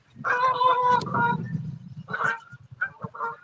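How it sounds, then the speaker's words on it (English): Several Canada geese honk in short bursts as they fly up a river, a few calls close together, then scattered honks after a pause, fairly close in quiet surroundings. "Some Canadian geese flying up the river."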